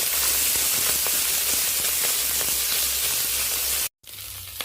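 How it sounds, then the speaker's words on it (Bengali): Small mourala fish sizzling in hot oil in a pan, a loud steady hiss with crackling pops that stops abruptly near the end, then quieter frying resumes. "তো এই পর্যায়ে মাছগুলো আমি দিয়ে দিচ্ছি ভেজে নেওয়ার জন্য।"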